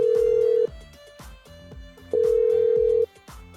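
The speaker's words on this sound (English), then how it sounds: "Right, it's ringing." A phone ringback tone sounds twice, two long steady beeps separated by a pause, over a low background hum and faint rhythmic music.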